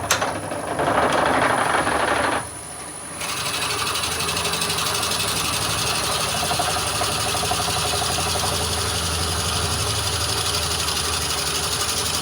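A wood lathe hollows a cherry root ball, giving a steady, close mechanical whir with a rapid, chattering texture from the tool cutting, louder briefly at the start, then running evenly.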